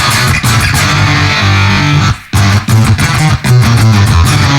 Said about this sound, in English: Now, putting some distortions in there.